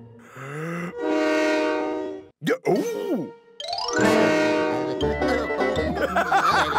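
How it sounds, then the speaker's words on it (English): Cartoon sound effect of a toy whistle blowing like a train horn, long loud tonal blasts with a brief break, then busier mixed sounds in a children's animated Toyland scene. "It's not the train. It's my whistle."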